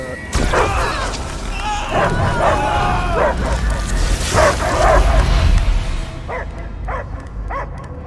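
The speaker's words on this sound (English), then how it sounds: "I hear only barking." Repeated dog barks and yips in the video game Guardians of the Galaxy, loud and close, mixed with game sound effects and music; a few sharper barks stand out toward the end.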